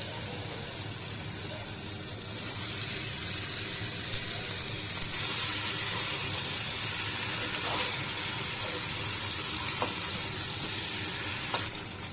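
Fried potatoes and okra sizzle loudly in a tomato-based masala, a steady close-up hiss of frying with occasional stirring clicks throughout, no speech.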